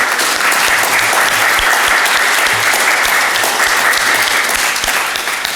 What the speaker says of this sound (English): Can we give Reverend Anita just a round of applause as your Minister Emerita?